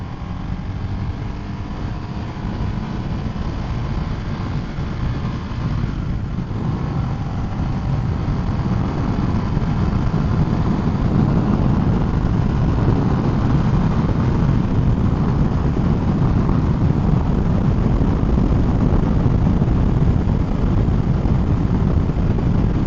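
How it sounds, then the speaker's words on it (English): A car engine drones steadily while climbing a hill on a winding road, a continuous muffled hum with road and wind noise building slightly over time, no talking. "Driving up the hill."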